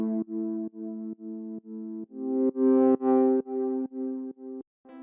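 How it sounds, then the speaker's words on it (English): A layered, saturated synth pad plays sustained chords for a melodic house track, pumping rhythmically in short swells, the chord changing partway through before a brief gap, with no voices. "And then for this other pad sound in here"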